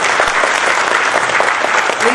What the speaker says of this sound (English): let's keep our applause really loud one more time for Mr. Parathasarathy